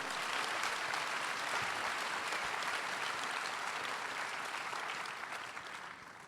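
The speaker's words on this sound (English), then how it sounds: "Can we get a big round of applause for Justin and Brian and all of the frogs?" A conference audience at the Devcon SEA closing ceremony in Bangkok's QSNCC applauds, a dense, sustained wash of clapping from a large crowd that fades a little at the end.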